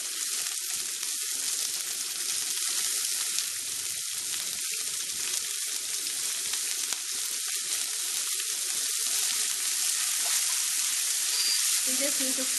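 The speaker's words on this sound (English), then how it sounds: "just need to fry this a bit." Onions and chilies frying in a pan for a South Indian cauliflower pepper dish, a steady close sizzle and crackle running throughout with no voices.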